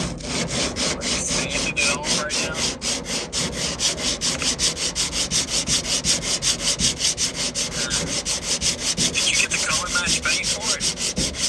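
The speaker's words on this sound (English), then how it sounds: "I was sanding" Rapid back-and-forth sanding of a rusty Cummins truck bed, rhythmic and continuous, loud and close, with strokes repeating steadily.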